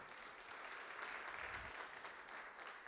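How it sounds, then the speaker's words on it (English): A conference audience at a men's empowerment summit applauds steadily, a dense wash of clapping that holds for the whole stretch at moderate distance. "Give him a great big round of applause too, everybody."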